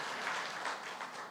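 A short, moderately soft round of applause from a church congregation during a sermon, a steady patter of many hands with no speech over it.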